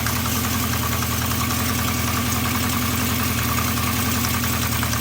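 A Honda CB350 motorcycle engine idles steadily with almost no choke, a close, loud and even putter with a regular pulsing rhythm and no voices.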